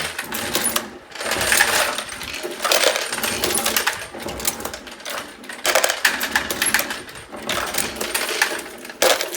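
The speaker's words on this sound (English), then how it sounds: "to me, the machine is about just loading the ammo" An automatic ammunition loading machine runs continuously, making repetitive metallic clinking and clattering of cartridges in a steady mechanical rhythm, close and moderately loud.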